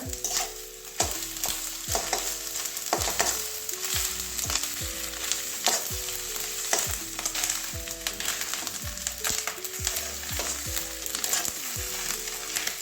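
Rohu fish roe sizzling in hot oil in a pan for a Bengali chorchori, with steady loud frying and repeated scraping strokes of a stirring spoon throughout, no voices.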